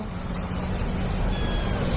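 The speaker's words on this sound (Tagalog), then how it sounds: "Persian cat." A Persian cat meows at the Arranque pet market, its cry close and fairly loud over a dense, noisy market background.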